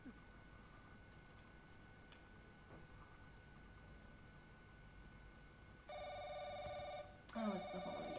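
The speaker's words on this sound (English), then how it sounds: "I hope it's another creepy phone call." A telephone rings in The Crooked Man horror video game, a faint electronic trill that starts partway through after quiet background hiss and fades into a second burst near the end.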